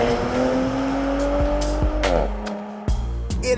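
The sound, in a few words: Porsche SUV accelerating hard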